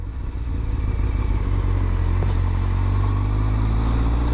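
A Honda CBR600F motorcycle engine runs steadily at close range, a continuous low rumble with slight clatter and no talking.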